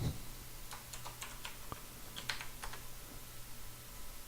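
Soft typing on a computer keyboard, a loose string of light key taps with a few sharper clicks spread across a quiet background.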